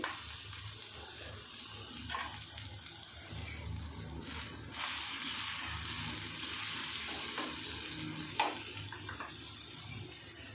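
Dosa batter spread onto an oiled pan, a soft, steady sizzle and hiss that swells slightly midway, with a few faint scrapes and clicks on top.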